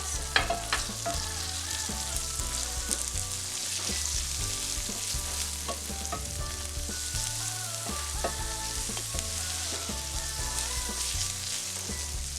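Purple onions fry in a pan for a rice pilau and veggie mince stew, giving a steady, close sizzle with crackling pops that holds at an even level throughout, with no talking.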